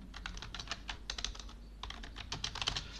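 Fingers tap a computer keyboard while typing Hindi text, producing quick irregular clusters of crisp keystrokes with a short pause midway. The typing is close and clear, with no talk over it.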